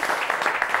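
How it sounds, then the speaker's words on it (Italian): Studio audience applause on an Italian local television football talk show, a brief, even patter of many hands clapping at moderate volume. "c'è un applauso anche"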